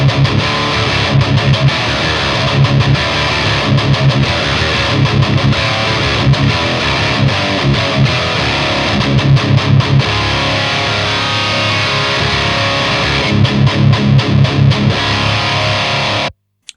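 A custom Kiesel electric guitar played through a Zuta GBG at the bridge pickup position, producing loud, heavily distorted chunky riffs with palm-muted chugs and sustained chords that run continuously before cutting off abruptly at the end.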